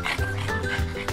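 Puppies bark and yip excitedly while playing loose in a yard, several short sharp calls in quick succession, close by and fairly loud.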